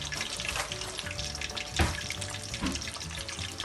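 Minced pork rolls fry in a pan with a continuous busy sizzle and spatter, broken by a brief louder clatter midway as they are stirred.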